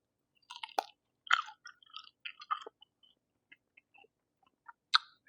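Close, crisp crunching bites and chewing of an air-fried, Asian-style crispy chicken wing, a few sharp crackles followed by softer chews and scattered quiet clicks in a quiet room.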